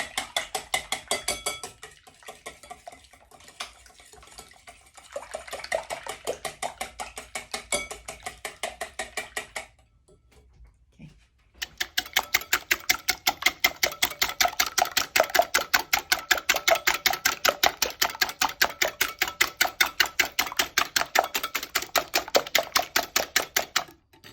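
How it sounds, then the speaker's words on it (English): A wire whisk beats an egg custard mixture in a bowl with fast, steady rhythmic clicking, loud and close, pausing briefly midway before resuming more vigorously. "Then you're going to want to whisk it up with the wire whisk until it's frothy."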